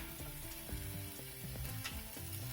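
Shrimp sear in a hot pan, giving a continuous close crackling sizzle with scattered pops and spits throughout.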